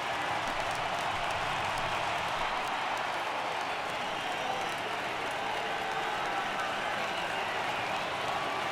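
Stadium crowd noise from a baseball game in MLB The Show 18, Braves at Marlins in Miami, a steady broad roar of cheering and applause that holds loud and even throughout.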